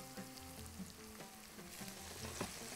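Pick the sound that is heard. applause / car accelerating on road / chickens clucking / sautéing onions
sautéing onions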